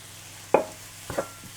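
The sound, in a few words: paneer stir-fried lightly in a pan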